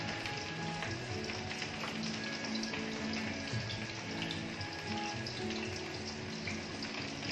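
Raw mince kebabs frying in a pan over medium heat, giving a continuous, even, watery sizzle at moderate level throughout, with no talk.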